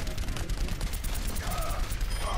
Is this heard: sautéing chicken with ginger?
no